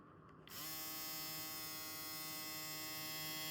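A Kemei KM T402 UV electric shaver switches on after a short faint moment and runs with a steady, close, high-pitched motor buzz that holds constant to the end.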